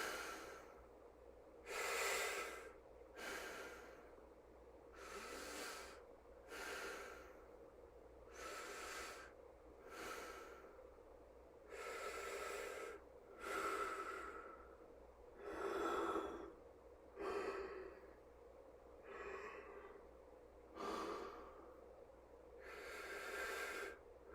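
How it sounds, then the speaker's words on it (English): A patient takes repeated deep breaths during a physical assessment, a slow regular series of about a dozen airy inhales and exhales, quiet and close with no speech. "now if you can take some deep breaths for me"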